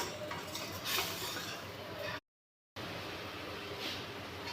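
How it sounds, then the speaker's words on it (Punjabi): Spice paste for a thick kofta gravy roasting in a pan while a spoon steadily stirs and scrapes it, with faint sizzling and metal clinks, briefly cut by a short silence. "ਹੁਣ ਇਹ ਆਪਾਂ ਆਪਣੇ ਪੇਸਟ ਨੂੰ ਚੰਗੇ ਤਰੀਕੇ ਨਾਲ ਭੁੰਨ ਲਾਂਗੇ"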